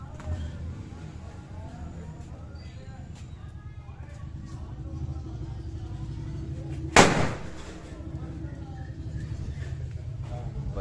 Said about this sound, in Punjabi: ਦੀਵਾਲੀ ਦੇ ਵਧੇ ਬੰਬ ਪਏ ਸਾਡੇ ਕੋਲ ਦੇਖੋ ਆਕੜੇ ਬੁਲਟ ਬੰਬ ਤੇ ਦੂਜੇ ਉਹ ਮਿਰਚੀ ਪਟਾਕੇ